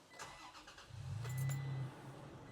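A Toyota Tacoma pickup engine cranks and catches, rising into a brief low rev that then settles toward idle, close and moderately loud with no talking.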